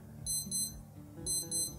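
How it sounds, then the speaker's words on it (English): A Casio F-108 digital watch alarm beeps in quick paired bursts, two short double-beep groups, thin and high-pitched, fairly quiet against a soft background hum. "press and hold the start-stop button, and it will give the alarm beeping sound"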